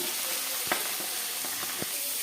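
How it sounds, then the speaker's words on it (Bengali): Hilsa fish frying in oil in a wok, a continuous soft sizzle with a few brief crackles and pops, fairly quiet, no talking. "এই যে দেখো দুটো কড়াই জেলে দিয়েছি একসঙ্গে ওটাতে মাছ দিয়েছি"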